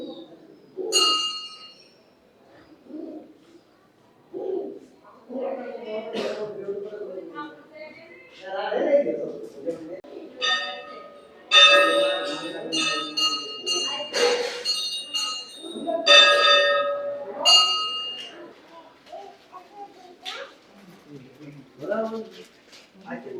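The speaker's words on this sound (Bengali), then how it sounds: "এই ঘন্টার সাউন্ডগুলো কিন্তু একটা আলাদা এফেক্ট" Brass bells ring at the Lahariya Shiva temple in Purulia, with several bright clanging strikes in clusters amid a quiet outdoor setting. A person talks between and over the ringing.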